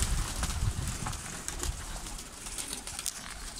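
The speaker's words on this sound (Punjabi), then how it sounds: "ਕਬੂਤਰ ਜਾਲੀ ਤੋਂ ਬਾਹਰ ਵੀ ਨਿਕਲੇ ਨੇ" Pigeons coo steadily near and around, with low throaty calls repeating over a busy background of birds; no one speaks.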